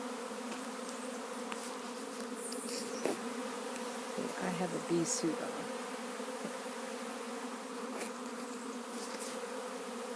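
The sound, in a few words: honey bee swarm moving into garage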